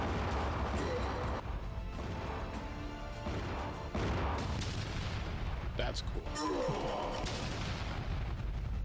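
Toy action-figure battle with dense explosion and gunfire sound effects, rapid bursts, crashes and booms packed closely together with hardly a break, loud and near, while a voice talks briefly over them.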